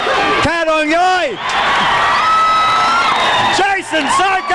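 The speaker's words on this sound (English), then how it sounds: "Jason psycho, crowd goes wild." A wrestling match crowd cheering wildly, loud whoops and yells rising and falling, with a sustained roar that swells in the middle and fresh whoops near the end.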